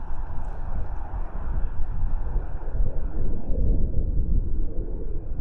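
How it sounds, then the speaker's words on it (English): Strong wind buffets the microphone at a lakeside fishing peg during a match, a loud continuous low rumble and roar with no one speaking. "This just isn't going to work, the wind. It's too windy."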